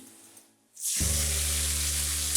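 Leaves drop into hot oil with frying garlic. After a moment of near silence they set off a sudden, loud burst of sizzling that holds steady and close until the end.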